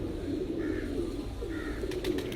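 Pigeons coo softly in two short, low phrases at a breeder's loft in Bhuchal Kalan, set against a steady background hum.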